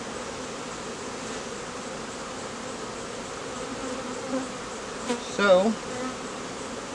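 A faint, steady drone of a buzzing honeybee swarm runs throughout, with a brief louder buzz near the end and a single spoken word.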